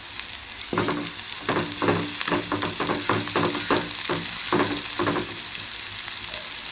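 Onions and green chillies frying in oil under a bright steady sizzle, broken by a quick run of rhythmic scraping stirs through the middle, close and loud, no voices.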